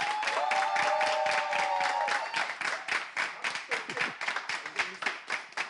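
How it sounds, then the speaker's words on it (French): An audience applauds a game-show champion, steady loud clapping that thins toward the end into scattered claps, with a held tone ringing over the start. "On l'acclame très fort."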